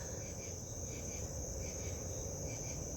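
Cricket chirping steadily and continuously close by, a constant high trill with faint pulsing, heard alone without any talk.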